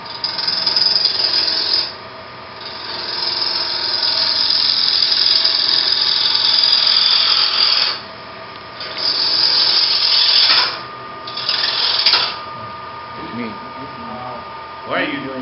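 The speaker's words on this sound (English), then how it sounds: "best if you can run the lathe at fairly higher speeds than you might typically run" Wood lathe turning a small wooden sphere at high RPM, a loud continuous high-pitched whirring cut with brief dips as the tool lifts off, close up and steady, with light background noise near the end.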